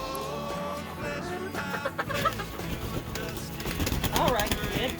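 A homestead chicken clucks close by in repeated throaty bursts. Faint farmyard noise surrounds it, and a person talks over part of it.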